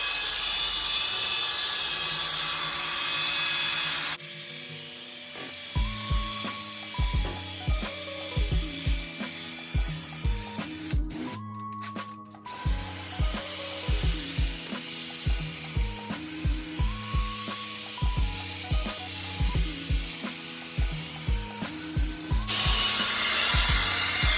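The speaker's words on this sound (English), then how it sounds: "I'm going to take my drill here, and basically I'm just going to agitate it" A power drill with a brush attachment agitating carpet whirs with a harsh, scrubbing rasp, pulsing in rapid bursts, loud and close throughout.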